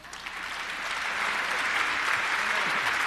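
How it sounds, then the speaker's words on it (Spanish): Applause rising from an audience at the closing ceremony of a supplier fair, swelling from moderate to full, even clapping that holds steady to the end. "Fuerte, fuerte el aplauso"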